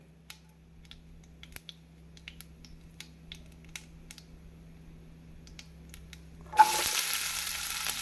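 Onion and garlic tipped into hot oil with popping mustard seeds in a kadai, a quiet kitchen with scattered small ticks breaking into a sudden loud, steady sizzle near the end.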